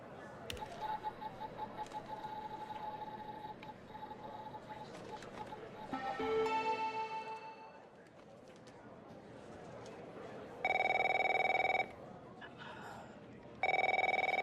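A telephone rings in the video game The Operator, two loud bursts of electronic ringing near the end, set against a steady ambient game hum with other faint sounds earlier.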